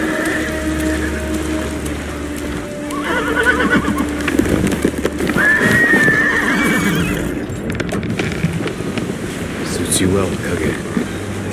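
A horse in the video game Ghost of Tsushima gives a loud, clear whinny partway through, set against steady rain, hoof clops and soft background game sounds.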